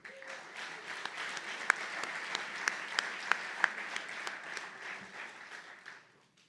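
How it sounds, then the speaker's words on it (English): An audience at a county Board of Supervisors meeting applauds employees marking 30 years of service, steady moderate clapping lasting several seconds with a few sharper individual claps standing out. "Let's give them a round of applause."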